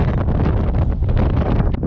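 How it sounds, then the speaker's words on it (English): Strong wind gusts of about 30 mph buffet the microphone in a steady, roaring rush, with gusts swelling and easing throughout. "We must be getting 30-mile-an-hour wind gusts."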